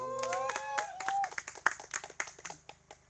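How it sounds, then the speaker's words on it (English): Scattered clapping from a small audience at a World Music Day celebration, a few individual claps that thin out and fade, following a brief stretch of voice at the start. "So give them a big round of applause."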